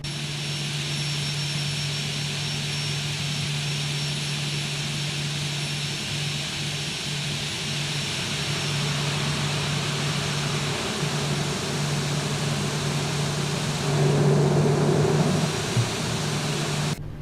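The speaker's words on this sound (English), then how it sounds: "I work on aircraft that have CFM56 engines, and they sound just like this. Especially when they're at idle" CFM56 jet engines idling on a simulated Boeing 737-800 in X-Plane 12 give a steady, loud whine with a constant low hum and high tonal lines, swelling briefly near the end, with no talk.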